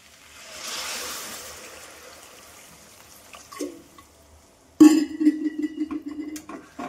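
Water poured into a pot of spiced curry, with a brief clatter of the vessel, then a close, loud splashing gush that runs for about two seconds.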